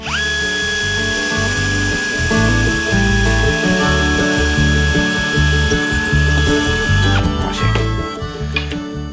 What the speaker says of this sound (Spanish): La enrasamos y taladramos.